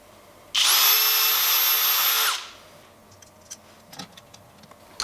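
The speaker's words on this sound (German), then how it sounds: "Ich kann noch gar nicht anschrauben, ich muss das erst größer bohren." A power drill whines loudly for about two seconds while enlarging a screw hole on a 3D printer during a heated-bed cable repair, then stops, leaving faint clicks and small handling taps.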